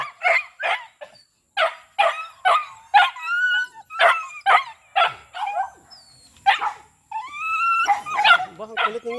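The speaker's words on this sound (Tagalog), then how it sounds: "Ang kulit ng mga aso ko guys." Playful pet dogs at a rural hut barking in quick, loud bursts close by, with yips and whimpers mixed in and short pauses between volleys.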